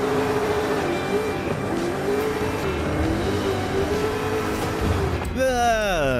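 A Chevy Colorado truck engine droning and revving in Forza Horizon 5, a loud steady engine tone with a rising rev near the end, heard under someone talking.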